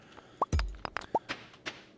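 A tool hits wood in the farming video game Stardew Valley: a few quick, soft plopping knocks and a low thump at moderate volume, with no talking.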